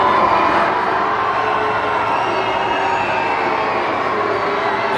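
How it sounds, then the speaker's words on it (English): A crowd at Cardiff Castle booing King Charles as he arrives, a steady, dense wash of many distant voices jeering without pause, heard as a continuous roar. "There's a lot of booing going on then"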